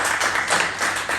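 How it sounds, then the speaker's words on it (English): An audience at a talk gives a brief round of applause for the arriving speakers, a quick run of fairly close hand claps lasting only about a second. "Let a round of applause, everyone."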